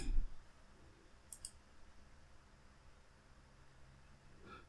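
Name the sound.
computer mouse clicking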